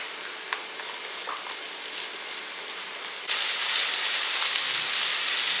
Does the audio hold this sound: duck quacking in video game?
no